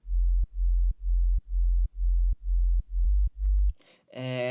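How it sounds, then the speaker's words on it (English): A sub bass synth layer programmed in Ableton Live for a remake plays eight steady, deep sustained notes in an even rhythm, loud and alone. A brief brighter bass burst follows at the end. "And that's basically the sub bass."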